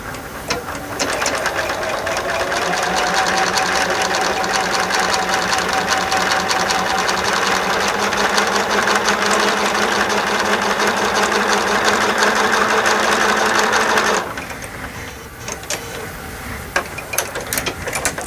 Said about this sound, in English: I am just going to go on and start sewing these